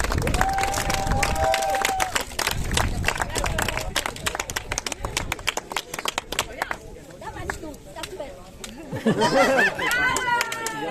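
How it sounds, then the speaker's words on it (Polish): Applause and cheering for a women's category winner at a small outdoor eco running race in Poland, with crowd chatter throughout and an announcer speaking near the end. "Wielkie brawa!"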